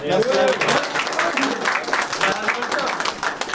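Audience applause at a French rap battle event, a dense steady clapping wash filling the moment, fairly loud, with crowd voices and cheering mixed in throughout.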